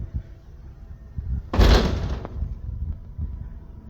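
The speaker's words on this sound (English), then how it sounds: "Let me close the door here." An interior door closing in an old 1830s farmhouse under renovation, a single loud thud with a brief rattle at mid-clip, over room noise and faint rustling.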